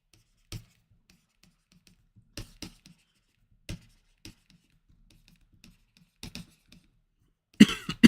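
Pen strokes writing out an algebra lesson, short scratchy bursts separated by silent pauses, close and fairly quiet, with a louder rustle or cough near the end.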